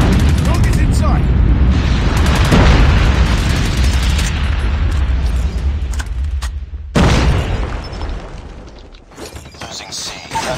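A nuke detonates in a Call of Duty Mobile match: a loud, sustained roaring blast with dense crackling bursts that cuts off sharply near seven seconds, then returns as a quieter rumble with scattered pops.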